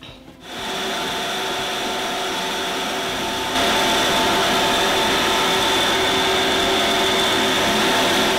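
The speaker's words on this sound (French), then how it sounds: "le mélange va passer au granuleur" A fish feed pellet machine, a granulator used at a fish-farming training session in Libreville, runs steadily with a loud continuous mechanical whir that grows slightly louder partway through, with no voices.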